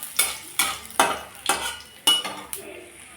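Cumin seeds and a broken dried red chilli tempering in hot mustard oil in a wok, with sharp rhythmic stirring strokes roughly twice a second over a light sizzle.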